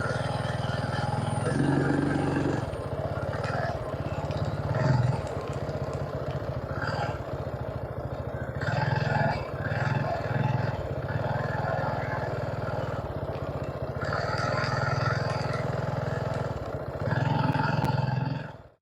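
A vehicle driven around a figure-eight driving test track gives a steady, close engine drone with a rough, rumbling tone that rises slightly at moments, accompanied by light rattling throughout.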